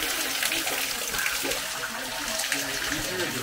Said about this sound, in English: Nice and cold and fresh water.